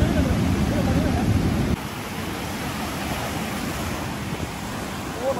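Sea waves wash onto a beach at dusk, a steady rushing surf with wind noise buffeting the microphone, continuous and fairly loud.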